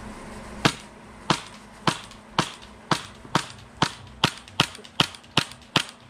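An airsoft Glock 18c converted to an FMG-9 firing BBs, about a dozen sharp snapping shots in a steady, slightly quickening rhythm, close and crisp against a quiet hiss.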